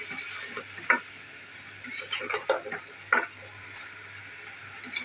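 Potato curry being stirred in a pan with fried pumpkin bori added, a soft scraping stir with light sizzling and a few sharp spoon taps against the pot, fairly faint and close.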